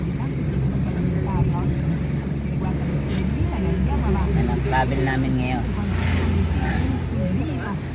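Interior of a moving car in Rome, Italy, a steady low road rumble and engine drone beneath conversation from people inside the vehicle.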